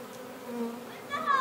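Honey bees hum steadily at close range at a hive, a soft droning buzz that swells a little louder toward the end.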